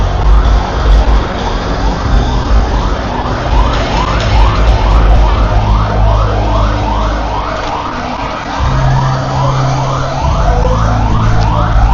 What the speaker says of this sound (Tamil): ambulance, ambulance